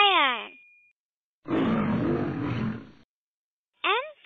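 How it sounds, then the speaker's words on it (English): A lion gives one short, loud, rough roar between two brief descending sweep effects in a children's alphabet song, with silence around it. "L for lion."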